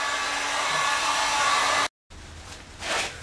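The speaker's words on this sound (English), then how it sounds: "take a heat gun and just heat it up" A heat gun blows hot air onto thick PVC electrical conduit, a steady loud roaring hiss that cuts off abruptly for a moment and then resumes, swelling briefly toward the end.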